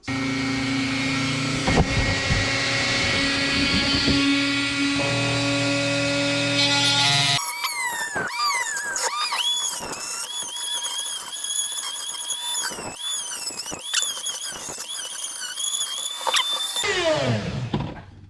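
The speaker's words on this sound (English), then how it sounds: "I got my Dremel tool." Dremel rotary tool working on a Honda ATC185S recoil retrofit, a high whine with shifting pitch that rises and falls through repeated short bursts of cutting, close and loud, with no talking.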